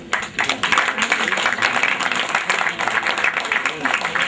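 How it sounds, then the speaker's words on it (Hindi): Loud, dense applause from an audience honouring the founder of Study Point with the Rajiv Gandhi Award. The clapping roars steadily throughout while someone talks over it. "जोरदार तालियां सर के सम्मान के लिए"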